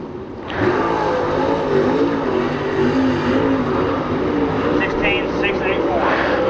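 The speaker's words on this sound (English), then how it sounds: "really feathering that throttle through turn 3 and 4" A World of Outlaws sprint car lapping Sharon Speedway's dirt track in 2004, engine snarling loud and steady as the throttle is feathered through the turns, with announcer talk over it.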